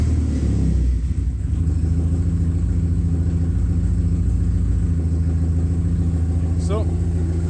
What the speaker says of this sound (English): You can just listen to the engine as it idles here.